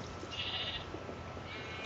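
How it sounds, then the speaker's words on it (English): A Minecraft sheep gives a bleat early on, a short, wavering, nasal call over a steady low hum of game ambience, with a fainter second bleat near the end. "And there's a sheep, 2 sheep, 3 sheep."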